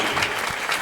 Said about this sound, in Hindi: जोरदार तालियां यूसुफ